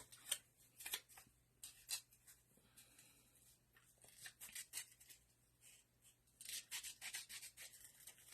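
Faint scissors cutting out a paper specimen slide for a steampunk journal cover, with soft irregular snips and rubbing of paper close by and quiet, no talking.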